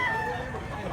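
A young stag rooster clucks and calls loudly and close by in a Cebu gamefowl setting, a single drawn-out vocal burst filling the moment.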